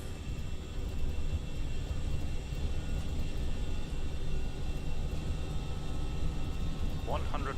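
Airbus A319 engines at takeoff thrust (TOGA) on an Austrian flight departing Berlin, a steady, loud, broadband roar heard from the cabin, with cockpit voices talking over it and a brief higher tone near the end.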